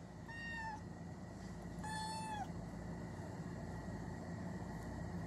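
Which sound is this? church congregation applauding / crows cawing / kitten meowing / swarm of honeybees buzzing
kitten meowing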